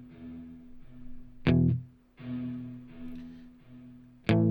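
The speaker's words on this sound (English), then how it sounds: "The original guitar chord is bone dry, and all of the repeats have got the reverb on them" Electric guitar chords strummed dry, with each hit followed by delayed repeats that carry a washy reverb tail and fade between strums.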